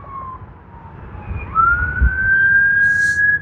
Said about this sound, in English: Got some sirens.